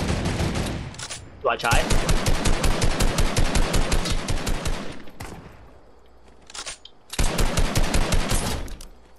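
Turret machine gun firing in the video game Fortnite, loud rapid bursts of automatic fire in two long volleys with a short gap between, players talking briefly over it.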